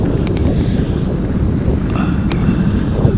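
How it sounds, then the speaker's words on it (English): Strong wind buffets a microphone outdoors on a road beside a golf course, a loud, constant low rumble with gusty swells and no voices. "A little bit windy here."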